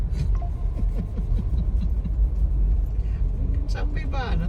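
A truck passes on a flooded road with a continuous rumbling engine under chatter, while people talk throughout.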